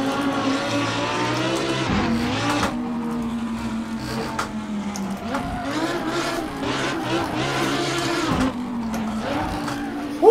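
A car driving in the racing game Assetto Corsa on a long Lake Louise cruise, the engine droning and revving up and down with gear shifts and brief dips, with talk over it.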